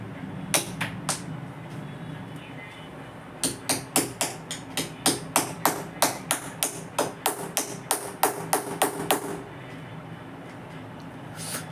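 A hard ripe coconut is struck repeatedly with a blade, producing a long series of sharp, loud, evenly spaced knocks, a few early hits then a rapid steady run before stopping.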